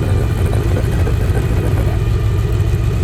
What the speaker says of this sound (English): at idle, you can hear the V8 burble